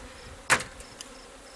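Bees on hive frames during a beekeeping inspection of a laying worker colony give a brief, sharp buzzing burst, followed by a couple of fainter flickers of buzz over a quiet background.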